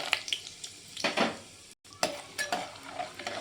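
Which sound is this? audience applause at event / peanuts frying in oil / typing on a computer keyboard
peanuts frying in oil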